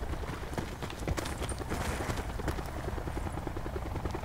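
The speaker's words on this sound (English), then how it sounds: "there goes our chopper" A helicopter in Call of Duty Blackout gives a steady rapid rotor chop with broadband rushing noise, a continuous moderately loud thumping with no talk over it.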